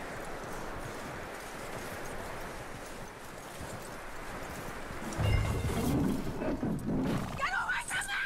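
Horse hooves and snorts from a skittish horse in the Western video game Red Dead Redemption 2, mid-level clopping under continuous character dialogue, growing louder and busier partway through.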